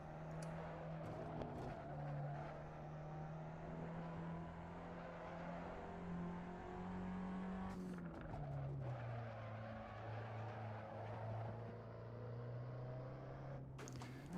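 Race car engine in a racing video game, a steady sustained drone that dips in pitch around the middle as it shifts, with brief bursts of extra noise, heard alone without talk.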